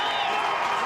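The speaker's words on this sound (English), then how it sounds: "Listen to the roar of the crowd." Loud, dense crowd roar at an Aboriginal rugby league club match with the Bourke Warriors, a steady wall of cheering and shouting from close by with no break across the moment.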